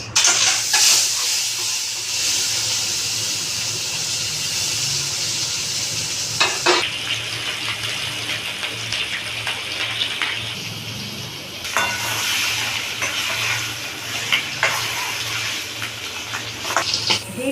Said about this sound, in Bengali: ডিমগুলো আমি এবার ভেজে নিচ্ছি